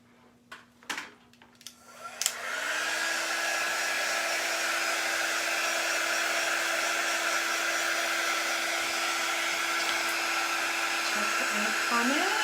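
A hair dryer-style heat tool blows steadily over chalk paste on a craft project of fall leaves, switching on after a few clicks and handling sounds and then humming in a continuous, even whir.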